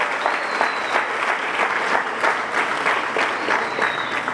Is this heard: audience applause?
yes